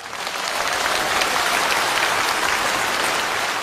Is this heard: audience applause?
yes